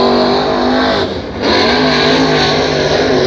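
A race car at Hattiesburg Speedway roars loudly and continuously under heat-race conditions, its engine dipping briefly before surging back at full volume throughout the short stretch.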